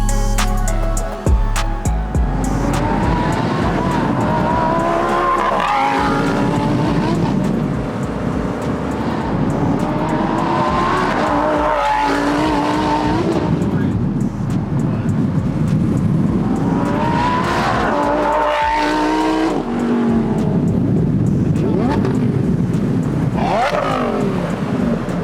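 Lamborghini Huracan Tecnica on a track, its engine roaring loud and steady through repeated rises and falls in revs, with tire and wind noise underneath and no talking.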